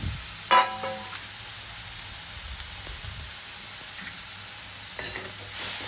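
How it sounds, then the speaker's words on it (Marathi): Grated carrot stirred through hot ghee for carrot halwa gives a steady close sizzle, with sharper scraping stir sounds near the start and again near the end. "जो गाजर किसलेला आहे तो टाकून घ्यायचा आहे आणि तो व्यवस्थितरित्या मिक्स करून घ्यायचा"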